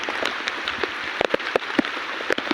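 Heavy monsoon rain pours down steadily, a close, loud hiss broken by sharp individual drops smacking a nearby surface. No one speaks.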